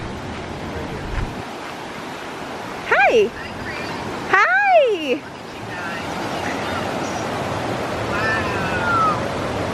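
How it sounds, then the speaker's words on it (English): Water in a Costa Rica river section rushes steadily over rocks, a constant broadband roar with wind buffeting the microphone, while voices call out briefly in greeting over it. "It's just like roaring river section."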